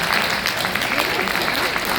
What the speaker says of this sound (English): I should get a clap for that.